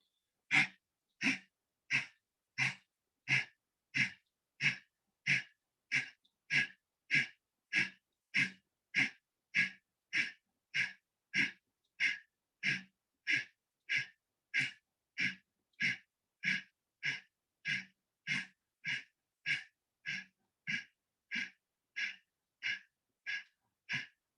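Kapalbhati pranayama breathing, a yoga practice of forceful exhalations: a steady, evenly spaced series of sharp nasal puffs, roughly one and a half per second, repeated dozens of times, close and clear with silence between bursts.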